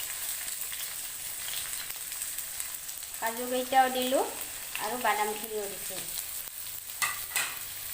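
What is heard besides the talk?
onions, cashews and nuts frying in ghee in a wok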